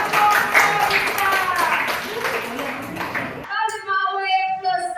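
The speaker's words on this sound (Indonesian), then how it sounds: "tepuk tangan untuk kita" Brief group clapping fills a classroom during a lesson, a dense, bright patter that breaks off abruptly, after which a voice carries on talking alone.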